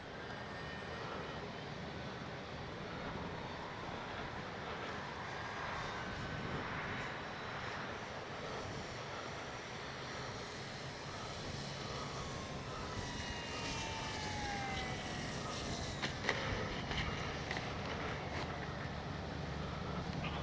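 An X-Fly Spitfire RC model warbird plane flies overhead, its engine a steady, moderately distant drone that swells slightly toward the end, with no voices.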